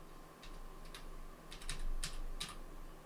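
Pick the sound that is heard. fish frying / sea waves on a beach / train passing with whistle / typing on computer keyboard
typing on computer keyboard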